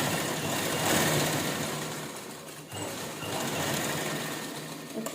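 A sewing machine stitches a cotton top, a fast steady mechanical whirr with a brief pause midway before running on again, close and moderately loud.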